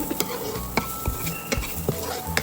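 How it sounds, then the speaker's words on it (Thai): Chili and garlic stir-fried in oil in a home kitchen, with a utensil scraping and clattering against the pan at irregular intervals over a steady low sizzle, close and fairly loud, with no talking. "ผัดให้มันหอม"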